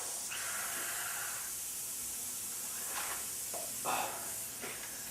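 A paint spray gun set to a wide fan pattern with the regulator fully open, test-sprayed onto paper taped to a garage door: a steady, loud hiss throughout with a few brief bursts near the end.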